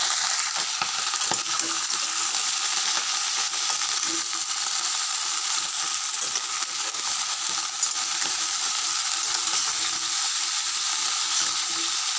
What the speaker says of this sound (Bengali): সবজি কেটে তেজপাতা ফোড়ন দিয়ে আর কুমড়ো শাকটা তুলে দেবো